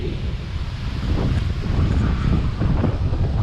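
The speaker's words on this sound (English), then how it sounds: "so windy" Strong wind buffets the microphone in low, rumbling gusts, continuous and loud, with no voices, on a ride from Bishramganj to Sabrom in Tripura.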